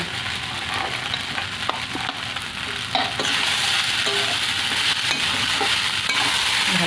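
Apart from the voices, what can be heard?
fried cashews and raisins added and stirred into pulao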